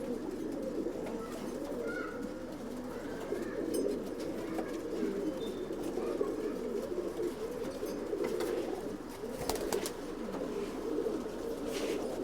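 Pigeons coo steadily and softly in a loft in Bangalore, overlapping low throaty calls rolling on for several seconds with a few faint clicks and rustles in between.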